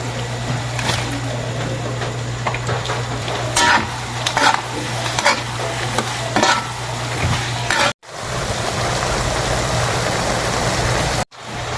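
Marinated shrimp sizzle loudly and steadily in a pan of garlic butter with Sprite sauce. Stirring scrapes and utensil clinks run over the frying, with two brief dropouts in the sound.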